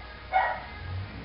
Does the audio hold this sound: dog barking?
yes